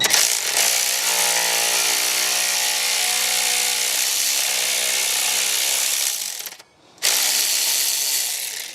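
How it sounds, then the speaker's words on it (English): A cheap cordless 3/8 ratchet turns a 10mm socket through an extension and universal joint, whirring loudly and steadily for about six seconds, dropping out briefly, then buzzing again, close and without talk. "I have a cordless ratchet with the 3/8 universal joint on, and then an extension and then a 10mm socket"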